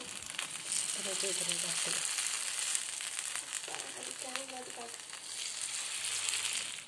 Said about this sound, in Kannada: ಫಿಶ್ ಫ್ರೈ ಮಾಡಕ್ಕೆ ಇರ್ತಿದ್ದಾರೆ ಅದಕ್ಕೆ ಕೊಕೊನಟ್ ಆಯಿಲ್ ಹಾಕ್ತಿದ್ದಾರೆ ಈಗ ಫ್ರೈ ಮಾಡಕ್ಕೆ ಹಾಕ್ತಿದ್ದಾರೆ